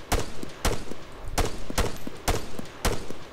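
Gunfire in the ARMA 3 military game, several sharp rifle shots fired in a loose rhythm, some spaced in pairs, loud and close with short echoing tails.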